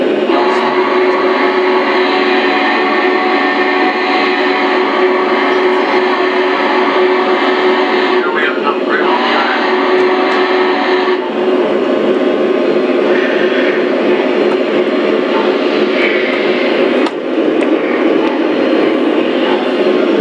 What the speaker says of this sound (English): these are Alanchik and Papa's electric trains